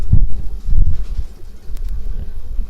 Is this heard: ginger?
no